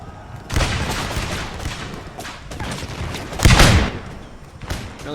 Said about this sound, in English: Oh, there we go. Hearing some guns fire.